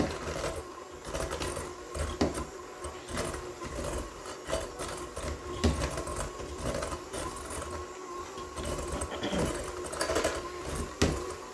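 An electric kitchen mixer beats batter for chocolate-filled bars, a steady whirring drone with a rattling texture that runs continuously at close range with small bumps and clunks.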